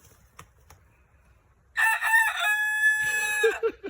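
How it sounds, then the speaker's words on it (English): A Polish rooster crows once, loud and close, a long drawn-out call with a few short clucks trailing at the end after a quiet start. "That's my Polish rooster."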